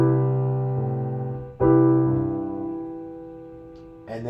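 A piano chord is struck and rings out, a second chord follows and sustains as it slowly fades, and a further note is played at the end.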